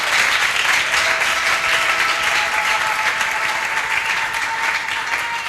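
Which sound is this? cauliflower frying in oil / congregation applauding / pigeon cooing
congregation applauding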